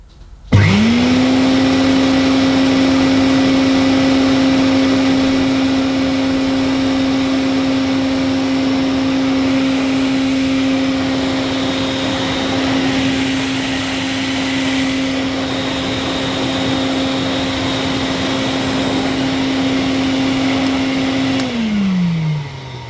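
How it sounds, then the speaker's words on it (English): An old Hoover Constellation Model 862 vacuum cleaner switches on with a rising whine, then runs at a loud, steady drone with a constant motor tone for about twenty seconds before spinning down. No one talks. "we'll switch on this Hoover Constellation."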